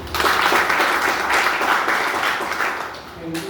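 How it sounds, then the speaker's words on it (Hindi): Audience at an RCM business meeting in Delhi clapping for a speaker, a dense, loud burst of applause that holds steady and then tapers slightly near the end. "एक बार तालियां सर के लिए"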